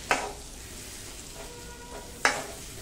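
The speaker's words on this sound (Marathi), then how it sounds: "हे बघा बटर याच्यामध्ये मस्तपैकी मेल्ट झालेलं आहे" Butter melting in a pan for restaurant-style veg manchow soup, a faint low sizzle with two sharp clinks of a utensil against the pan, alone without talk.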